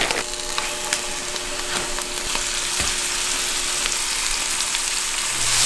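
Walleye fillets fry in hot oil in a pan with a constant bright sizzle and scattered crackles and pops. The sound runs close and continuous for several seconds, with no voices.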